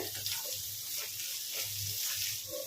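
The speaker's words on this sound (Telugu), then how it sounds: "ఒక 4-5 మినిట్స్ అయితే ఇలాగే ఫ్రై చేయండి." Sliced bitter gourd sizzles in a hot pan, a soft, steady hiss of frying with faint crackles and occasional stirring, fairly quiet and close.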